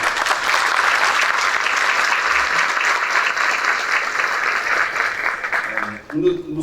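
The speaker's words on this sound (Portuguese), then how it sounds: "Palmas, por favor." An audience at a Python Brasil talk breaks into sustained clapping for about six seconds, loud and dense, before it fades out near the end.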